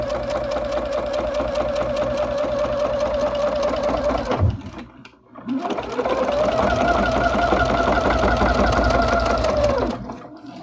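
Sewing machine stitching fabric for a microwavable bowl cozy, a fast, even mechanical whir that runs steadily, stops briefly for a pause, then resumes for several more seconds, close and alone.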